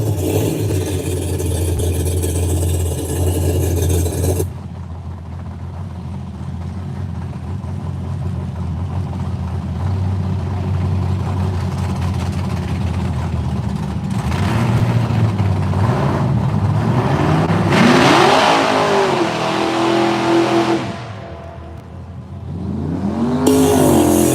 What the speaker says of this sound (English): We got Billy the Kid Hoskinson and a Stars and Stripes Mustang sitting on the starting line, getting ready to get after it